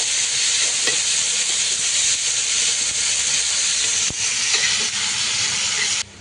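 Onions fry in a pan with garlic and green chillies, producing a loud, steady, close sizzle and hiss with a few faint clicks. The sound drops off abruptly at the end.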